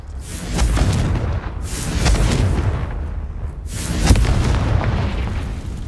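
Spell explosions from Hogwarts Legacy combat hit in repeated loud booming bursts, one after another, overlapping into a dense rumbling barrage with sharp cracks at each blast.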